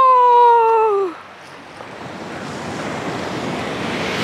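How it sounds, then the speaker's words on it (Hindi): Sea waves wash onto a shoreline, a steady close roar and hiss of surf with wind noise, following a brief high whistling tone at the start. "पैर को छू ही गया समंदर, क्या बात है"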